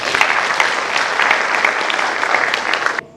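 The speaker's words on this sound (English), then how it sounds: "Can you clap for him?" A crowd at a graduation ceremony in Kenya claps steadily and densely for about three seconds, loud and sustained, then the applause cuts off abruptly.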